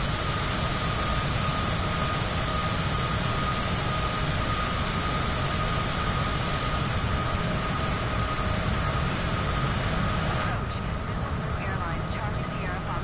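Continuous drone of a Cessna engine in Microsoft Flight Simulator 2024, a steady broadband hum with tonal whine holding level throughout, while voices speak over it.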